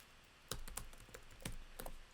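Keys tapped on a computer keyboard during mobile app wireframe design work, a few sharp separate clicks spread over two seconds, close and fairly quiet, with no voices.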